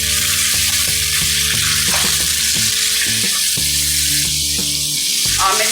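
Chicken pieces frying in a pan for a macaroni pasta dish, a loud continuous close sizzle with stirring throughout, no talk.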